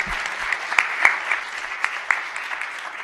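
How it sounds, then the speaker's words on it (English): An audience at a county park event applauds donors, a steady moderate patter of many hands clapping with a few sharper individual claps standing out, heard from a slight distance. "So let's give them a round of applause for that"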